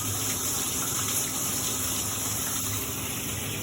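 Water gushes steadily into a Hoshizaki KM-901 ice maker during rinsing, a continuous close rushing wash with no talking.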